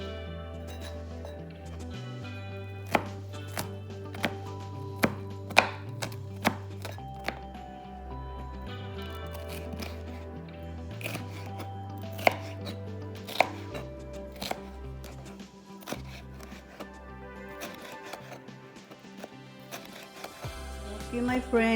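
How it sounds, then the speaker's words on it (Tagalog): Garlic being smashed and chopped on a cutting board, with repeated sharp knife thunks in an irregular rhythm over steady background music. "You need to smash the garlic."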